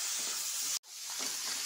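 Tomato and garam masala sizzling in a pan for crab curry, a steady close hiss of frying broken by one brief gap, with no talk.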